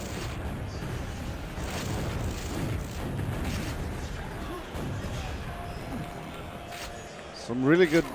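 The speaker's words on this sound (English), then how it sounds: "Some really good spam rockets from dirtbox." Rapid rocket explosions in a Quake tournament final at QuakeCon 2017 thud and crackle one after another in the busy game mix, partly under continuous excited commentary.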